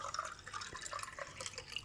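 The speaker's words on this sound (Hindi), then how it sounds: "अब इसमें हम पानी शामिल करेंगे।" Water pours and trickles into a Rooh Afza drink in a short, faint, splashy stream with bubbly liquid detail, heard alone without talk.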